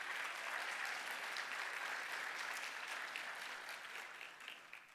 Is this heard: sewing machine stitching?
no